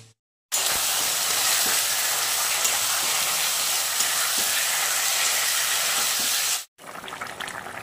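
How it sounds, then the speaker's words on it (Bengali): A pot of fish curry boils hard, a loud, steady hissing and bubbling that runs unbroken for about six seconds, then cuts out abruptly. "এই দেখো আমার মাছের ঝোল রেডি, টকবক টকবক করে ফুটছে একদম"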